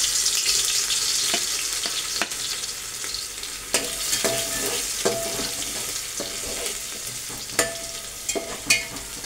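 Plenty of garlic fries in hot oil with mustard seeds in a home kitchen pan, a continuous close sizzle broken by scattered sharp pops and occasional stirring clicks, with no talking.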